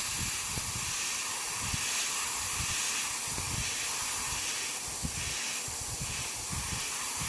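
An airbrush sprays black paint onto an aluminum airplane sculpture, giving a steady close hiss of air throughout, with faint low knocks and shuffles of handling underneath.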